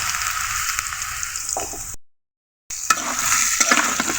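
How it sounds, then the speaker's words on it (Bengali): Green banana slices fry in hot soybean oil in a pan, a steady loud sizzle with scraping spatula strokes as they are stirred, broken by a brief silent gap partway through. "এভাবে ছুন্নির সাহায্যে নেড়ে চেড়ে পাঁচ মিনিট ভেজে নিতে হবে কলাগুলোকে"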